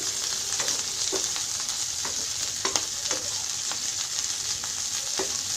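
Dried shrimp fry in a pan with a steady, fairly soft sizzle, broken by scattered small pops and stirring clicks, heard with no voice over it.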